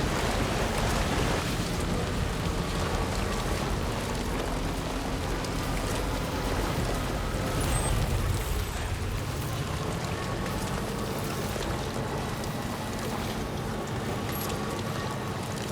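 Steady rain hisses throughout in Death Stranding 2, a dense broadband wash of falling water with a low rumbling bed, continuous and fairly loud with no talking.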